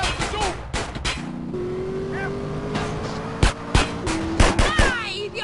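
Car engine hums steadily through a drive in the GTA San Andreas video game, with game music and sharp impacts layered over it while voices talk throughout.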